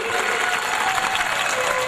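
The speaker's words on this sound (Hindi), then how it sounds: "ब्रजमोहन पचौरी जी एवं मनोज जी के लिए आप एक बार जोरदार तालियों के बजाकर उनकी सेवा कीजिए।" Audience applause at a Hindu religious discourse (katha) in Karond, Bhopal: a steady, dense wash of clapping from a crowd, even and sustained throughout, with a faint tonal note running underneath.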